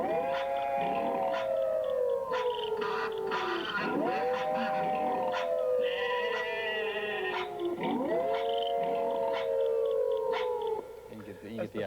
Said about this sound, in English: Here's the wolf background singers.